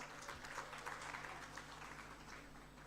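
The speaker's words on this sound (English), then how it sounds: "give yourself a round of applause" Audience applause at a heritage talk, steady and moderately faint, a dense spread of clapping from a seated crowd heard throughout without talk.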